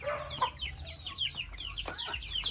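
Chickens cluck and squawk in quick, busy bursts, fairly close, with a low hum underneath.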